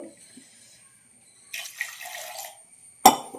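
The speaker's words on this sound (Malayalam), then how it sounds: "ഇച്ചിരി വെള്ളം ചേർത്ത് കൊടുക്കണം" Water is poured into a ground-coconut mackerel curry, giving a short, close splashing pour about a second long followed by a sharp knock of a vessel, with no voices.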